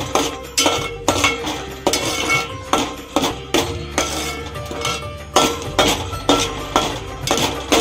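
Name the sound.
stirring ground masala paste in pan for prawn curry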